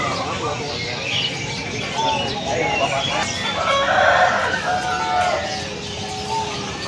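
A rooster crows loudly in the middle of a noisy animal market in Yogyakarta, with people talking and other birds calling around it.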